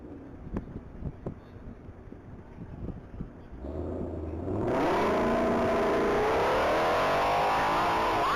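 A silver 2020 Ford Mustang GT500 at a top-speed mile race. Faint clicks give way to a rising engine note, then a loud, sustained roar with wind rush as the car sweeps past at full speed.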